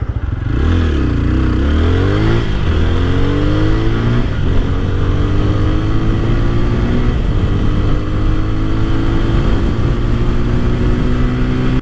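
A 2025 TVS Apache 160 4V motorcycle ridden on a highway in sport mode, its engine note rising through the gears with steady revving and rushing wind, loud and continuous throughout with no talk.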